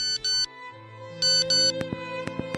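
A mobile phone text message notification tone sounds as a short electronic melody of bright beeping pulses followed by a run of clipped plucked tones, clear and alone.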